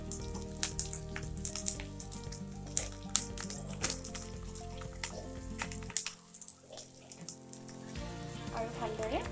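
Moong dal fries in a pan for muri ghonto with a soft, quiet crackling sizzle, punctuated by occasional stirring clicks.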